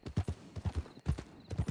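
Hooves of a horse clatter in quick, uneven clusters as the startled animal spooks in the RedM video game, loud and close with no talk over them.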